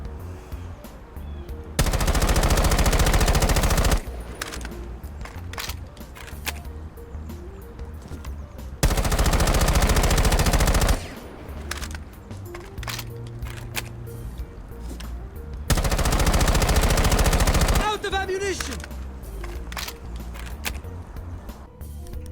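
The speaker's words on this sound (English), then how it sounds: "Here's a quick clip of the AK firing." AK rifle in Rainbow Six Siege firing three loud sustained bursts of automatic gunfire, each lasting about two seconds, separated by quieter in-game ambience and clicks.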